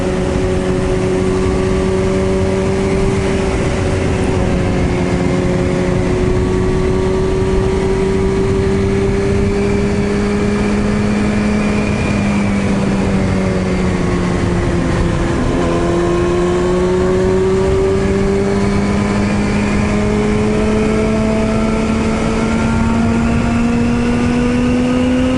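Sport motorcycle engine accelerating along a road, a loud continuous drone whose pitch climbs steadily, dips briefly and rises again over wind noise.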